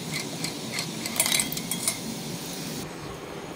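A whisk stirs turmeric into buttermilk for Khandeshi-style kadhi, making a steady run of quick metallic clinks and scrapes against the vessel, close up with no voices.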